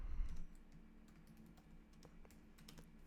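Python code being typed on a computer keyboard, a quiet, uneven run of individual key clicks over a low background hum, with no voices.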